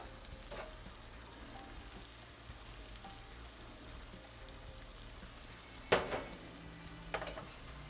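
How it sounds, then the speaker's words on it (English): Flour and mushrooms toast and sizzle softly in a pan, a faint steady frying hiss broken by a few sharp scraping clinks of stirring near the end. "That's all we're doing is toasting that flour."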